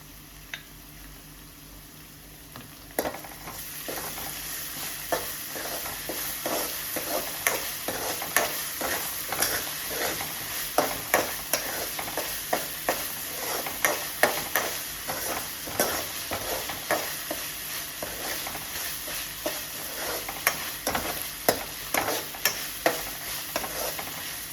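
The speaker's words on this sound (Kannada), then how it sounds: "ಇದು ಫ್ರೈ ಆಗ್ತಾ ಇದೆ. ಇವಾಗ ನಾನು ಶುಂಠಿ ಬೆಳ್ಳುಳ್ಳಿ ಪೇಸ್ಟ್ ಹಾಕ್ತಿದ್ದೀನಿ." Palak paneer ingredients, with ginger-garlic paste just added, fry in a pan with a steady close sizzle broken by frequent scraping stir strokes, continuous and without any voices.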